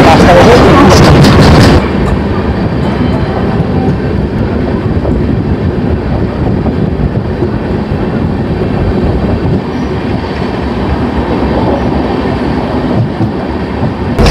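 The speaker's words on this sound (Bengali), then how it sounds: "বেরিয়ে গেল ট্রেন পরবর্তী স্টেশন হচ্ছে বর্ধমান" The Howrah Malda Intercity Express pulls out of a station bound for Bardhaman, its loud continuous rumble and wheel clatter heard from on board, steady and close, after a brief burst of noise at the start.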